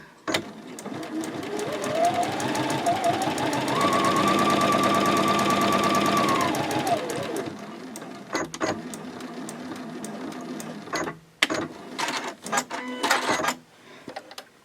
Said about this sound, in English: we will sew straight across with the 1/4 inch seam